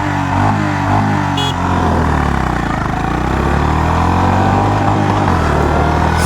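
A 2025 Honda CB350RS motorcycle pulls hard in first gear, its engine note loud, close and continuous, with rising and falling harmonics throughout and no talk.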